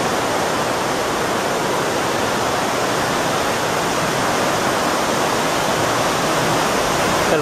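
The Torondoy River rushes over stones beside a bridge during channelling works, a dense, steady roar of flowing water filling the scene without pause and with no speech.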